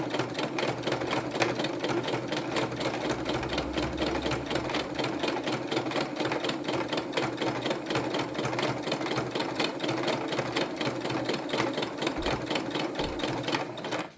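A sewing machine stitches a tote bag seam in one long unbroken run, its fast, even needle chatter close and steady throughout with no pauses.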